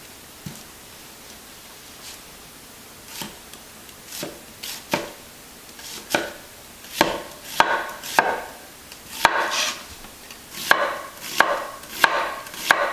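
A knife cuts through an onion on a board. Sparse taps at first give way to a quickening series of crisp chops, close and clear, with no talking.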